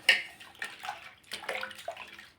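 Watery sloshing and splashing comes in a few short bursts, close up, as potato chips are moved around submerged in a bowl of water.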